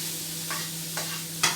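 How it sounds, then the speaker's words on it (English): Cabbage and smoked pork belly sizzle steadily in a hot frying pan with no butter, a continuous crackling hiss with a few scraping stirs. "it's sizzling away here"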